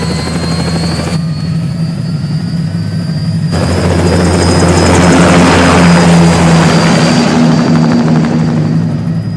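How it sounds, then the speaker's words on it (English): A helicopter lifts off in Metal Gear Rising: Revengeance, a loud, close rotor drone with a steady low thrum that swells into a broad roaring wash as it climbs. "Commencing takeoff in semi-auto mode."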